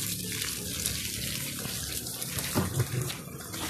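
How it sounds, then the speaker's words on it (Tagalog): Water running gently from an open tap into a koi breeding tank, a continuous close splashing and trickling wash with faint gurgles, no talk. "hinaan nyo lang na mag-open nyo na lang ang gripo. Ganito, mahina na tulo."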